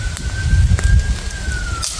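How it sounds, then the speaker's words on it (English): A small campfire burns by a lake, crackling and popping sharply up close. A thin, steady high whine runs faintly in the distance behind it. "So now you got a bit of a fire."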